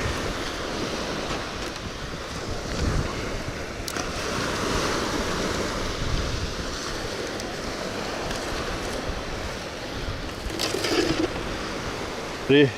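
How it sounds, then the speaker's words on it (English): Ocean surf rolling and breaking along the Florida Gulf Coast at a fishing spot, a steady broadband wash with wind buffeting the microphone, continuous and fairly close, with a brief louder bump near the end. "you'll see the waves right here, and you'll see the waves right there"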